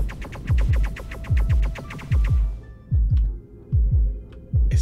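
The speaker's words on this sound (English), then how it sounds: "Like the heartbeat." A loud, close heartbeat thumps in the space game Underspace, a steady run of deep double pulses over a humming drone that drops away halfway, leaving the beats more isolated.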